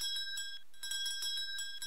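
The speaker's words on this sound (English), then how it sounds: "Can you hear the sound of the bell?" A small bell struck repeatedly for a classroom sound experiment, rapid bright rings repeating about every quarter second, clear and sustained with no talking.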